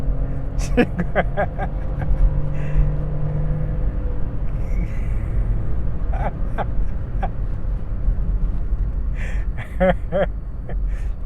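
A 2017 Volkswagen Up with an automated manual transmission pulls away, its engine giving a low, steady rumble close by while a person talks over it.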